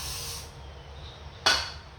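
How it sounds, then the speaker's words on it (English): Two short hissing bursts of spray lubricant on the exhaust valves of a 1967 Dodge Coronet 440 Six Pack engine, the first fading out early and the second sharp and louder, close by in a quiet garage. "I'm going to spray these exhaust valves over here"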